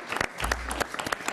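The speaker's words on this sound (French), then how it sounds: "On peut l'applaudir, Roxane, qui n'est pas célibataire." Applause from a small audience at a live French broadcast for a student named Roxane: brisk, close clapping from several people, fairly faint, with a low hum beneath.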